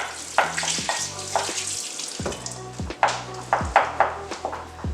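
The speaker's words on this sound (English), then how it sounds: "So let me just wash my hands." A kitchen tap runs while someone washes their hands during guacamole prep. The steady splashing water has short knocks and clatters from the sink, with a brief lull near the two-second mark.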